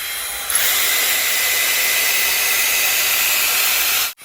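A Dyson AirStrait hair dryer straightener runs with a steady, loud airflow whoosh that starts after a brief pause and continues evenly, then cuts off abruptly near the end.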